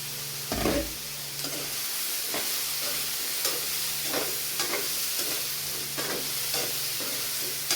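Vegetables sauté in a pan with a steady hiss of frying, punctuated by periodic scraping and clattering as a utensil stirs them. The sounds are close and moderately loud, and no one speaks.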